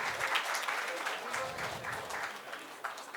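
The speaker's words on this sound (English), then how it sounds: "Let's give a big round of applause to Gaurav and his team." Sustained applause from a roomful of people, steady clapping that stays fairly even and moderately loud from start to finish.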